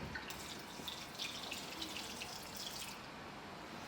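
Tap water poured for pot noodles, a steady soft hiss of running water with faint droplet splashes, close and quiet with no voices.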